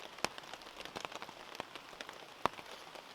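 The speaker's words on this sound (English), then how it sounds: "so I hope the rain isn't too loud on the mic" Rain falls at a wild campsite, light drops pattering on a surface in a scattered, irregular rhythm with a few sharper, nearer hits, quiet overall and with no talking.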